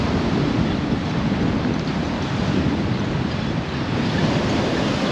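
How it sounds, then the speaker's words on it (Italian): Sea surf and wind on a beach between Marbella and Malaga, a steady, loud broadband roar of breaking waves with gusty wind buffeting the microphone throughout, no voices. "questo è il mare tra Marbella e Malaga"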